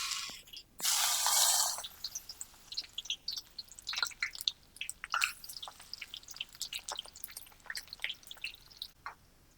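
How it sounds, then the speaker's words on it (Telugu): Brinjal pieces frying in hot oil over low heat, a burst of loud sizzle at first, then a steady scatter of small crackles and pops close by. "ఇప్పుడు మనం సిమ్లో పెట్టుకొని ఈ వంకాయ ముక్కలు అన్నవి ఈ ఆయిల్లో మనం వేయించుకోవాలి"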